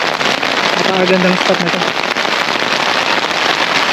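Heavy rain pours steadily at a riverside campsite, a loud dense hiss with gusting wind, while someone speaks briefly over the downpour early on.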